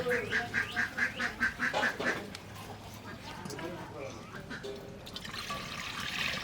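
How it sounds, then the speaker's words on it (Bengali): A rapid run of nasal quacks from domestic laying ducks at the start, then quieter splashing and murmuring water with faint calls later on. "আর আমাদের হাঁসে এখনও ডিম পাড়ায়"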